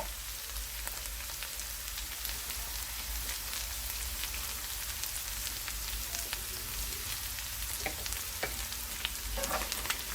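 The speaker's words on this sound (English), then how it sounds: "Mix it up well." Okra and shrimps are stirred and fried in a pan, producing a constant bright crackling sizzle with scattered sharp pops and faint spatula scrapes, steady throughout.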